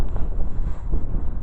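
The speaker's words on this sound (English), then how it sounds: "we've been having wind gusts of 30 mile an hour" Strong wind gusts buffet the microphone outdoors during a high-wind day in Carrollton, Ohio, giving a loud, steady low rumble with surging swells and no voices.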